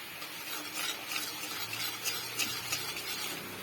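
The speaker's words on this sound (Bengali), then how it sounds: "চামচের সাহায্যে হালকা নেড়ে নিয়ে এটিকে ক্যারামেলটা তৈরি করে নেব।" A spoon gently stirs sugar and water in a pan for caramel, making a soft continuous scraping swish with faint light clinks, quiet and close with no talk.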